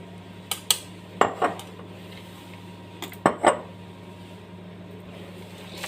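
A spoon clinks and scrapes against a metal pot while a tomato sauce mixture is stirred, several sharp knocks in small pairs spread over a few seconds above a low steady hum.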